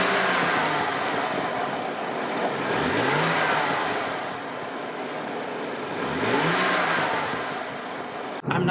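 An AFE cold air intake on a BMW M235i F22 with the N55 engine, revved twice in quick rising surges about three seconds apart, each swelling then falling back to idle, close and prominent with no voices.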